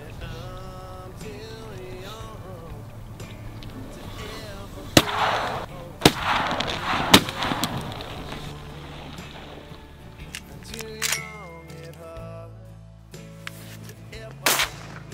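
Shotgun blasts ring out while hunting Barrow's goldeneye ducks on Kodiak Island, Alaska: several sharp separate reports over a few seconds and another later, with wind, background noise and hunters talking between shots.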